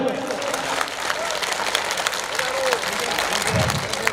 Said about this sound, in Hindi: तो एक बार पास ताली बजा दो